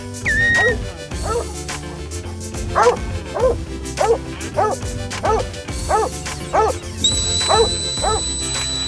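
A sheep heading dog barks repeatedly during mustering on a New Zealand farm. The barks are loud and close, with a steady, even rhythm, over a constant engine-like drone and a brief whistle-like tone.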